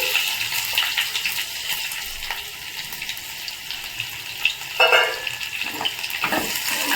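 Onions fry with mustard seeds and curry leaves in a pan, a steady sizzling hiss with occasional stirring and scraping sounds, loud and close, with no talking.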